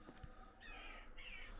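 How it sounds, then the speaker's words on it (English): Birds nesting up in the tower of an abandoned historic church let out faint, raspy crow-like caws and squawks, a few short bursts heard from a distance in a quiet interior. "You can go up further, but you can hear the birds. There's some nesting up there."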